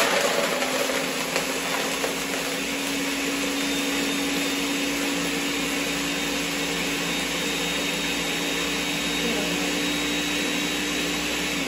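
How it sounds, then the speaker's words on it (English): A blender mixing a cocktail whirs loudly and steadily, a constant high-pitched motor drone that runs without pause from start to finish. "I apologize, this is a very loud blender."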